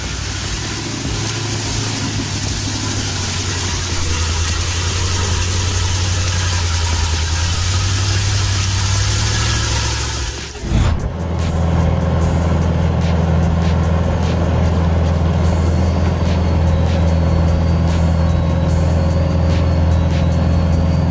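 A Ural off-road truck engine drives steadily with a loud, continuous low drone, a brief dip and shift midway, then running on strongly.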